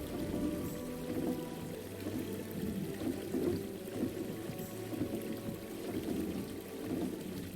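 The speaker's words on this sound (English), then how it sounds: "Water wheels." Water wheels turning in the Myst IV: Revelation video game, giving a steady, continuous wash of splashing and churning water with a low rumble underneath, moderately loud and unbroken throughout, with no voices.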